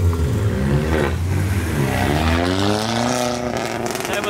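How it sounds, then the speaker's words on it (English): A modified Audi revs hard as it leaves a car meet in the rain, its engine note rising and falling loudly and close by, with a few sharp crackles near the end. "the Audi was doing some pops and bangs"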